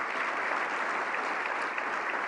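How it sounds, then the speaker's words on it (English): Even, sustained applause from a crowd at a county event, thanking the catering staff, with many hands clapping at once in a steady roar and no break or voices. "A big round of applause to the staff here that served our food."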